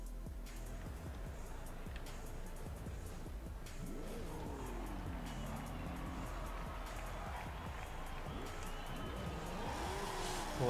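A car drifting in Forza Horizon 5, a steady engine drone with rising and falling revs and a wavering tire squeal, heard continuously at moderate loudness without talking.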